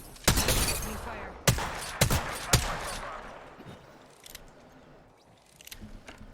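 Apex Legends gunfire: several sharp, loud shots crack in quick bursts early on, followed by fainter scattered pops and game noise trailing off.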